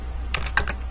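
A brief burst of about four quick key presses on a computer keyboard while a command is typed, close and crisp, alone without speech.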